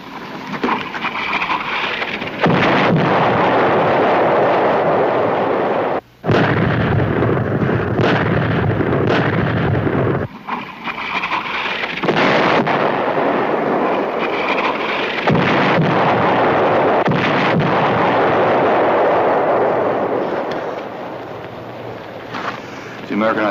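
An American artillery barrage rumbles on and on as shells burst in a broad, roaring wash of sustained noise in a 1963 World War II combat drama, with two brief breaks in the din.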